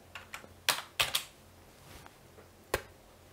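Fingers typing Arduino code on a computer keyboard, a handful of sharp close key clicks in an uneven rhythm with short pauses between them, heard alone.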